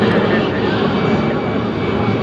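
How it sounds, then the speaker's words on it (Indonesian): A fixed-wing airplane passes overhead near an airport, its engine drone a steady, loud, broadband roar filling the whole stretch with no breaks. "Pesawat lewat dulu."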